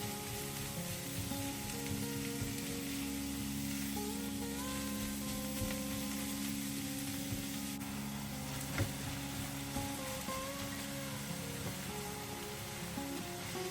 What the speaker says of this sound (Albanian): do vazhdojmë ta skuqim për disa minuta